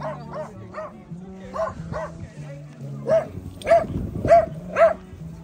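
At a dog park, a dog barks and yips near and loud, about nine sharp barks in an uneven rhythm that grow stronger toward the end, over low background rumble.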